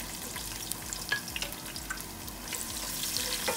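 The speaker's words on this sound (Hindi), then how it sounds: "अब इसमें डाल देंगे प्याज" Chopped onion fries in half a cup of oil with cumin seeds, giving a steady, fairly quiet sizzle with faint crackles and occasional small clinks as it cooks for spinach and meat curry.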